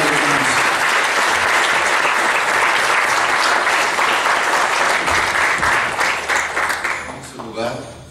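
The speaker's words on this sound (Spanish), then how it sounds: "Denle un aplauso al Rey de Reyes y al Señor de los Señores esta tarde" An audience at a church marriage conference applauds, dense, steady clapping from a large crowd filling the room, tapering off toward the end.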